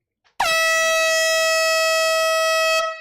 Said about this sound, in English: Chad's about to blow the air horn for Gabriel Chavez